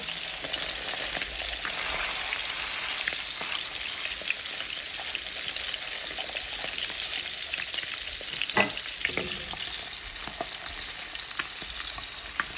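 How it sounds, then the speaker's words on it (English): A fish fillet fries steadily in a pan, giving a continuous close-up sizzle and crackle with scattered pops and spits, and no talking throughout. "I'm frying the fish now."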